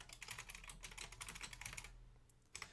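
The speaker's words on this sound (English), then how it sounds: "I kept my mic on while I was typing." Quick, uneven clatter of keys on a computer keyboard rattles for about two seconds and then stops, leaving a couple of scattered keystrokes, picked up faintly through an open microphone.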